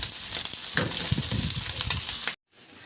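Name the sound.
onions sautéing in a pan with pork liempo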